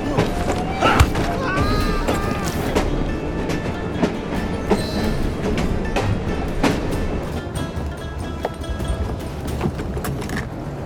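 A train rolls along in a video game set in London, steady rumbling with rhythmic clacks and thumps and occasional squeals, fairly loud and close throughout.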